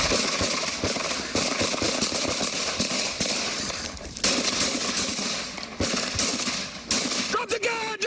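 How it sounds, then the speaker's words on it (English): Gunshots fired at police during a suspect chase through residential yards sound as a rapid scatter of sharp cracks and bangs over a busy, noisy background that continues throughout. "Shots fired, shots fired."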